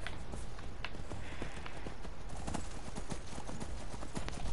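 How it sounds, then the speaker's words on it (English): Steady video-game horse hoofbeats clip-clop at a walking pace, close and continuous, over a dense background of ambient noise. "Oh, a horse. My horse."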